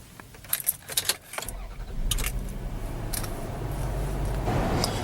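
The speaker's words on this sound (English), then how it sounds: "And now we are ready to start the car." Car keys jangle in short bursts, then an engine cranks and starts and settles into a steady idle, close and fairly quiet, with no talking.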